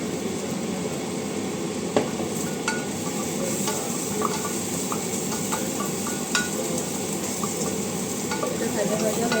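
Chicken pieces marinated in salt, turmeric, black pepper and a little lemon juice sizzle in a pan for a stew, a steady close frying hiss broken by occasional sharp clicks of stirring.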